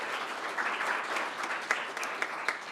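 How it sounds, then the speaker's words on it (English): An audience at an annual meeting's general session claps steadily for the event sponsors, with a few louder individual claps standing out from the fairly soft, distant applause. "So a quick round of applause to all of our sponsors"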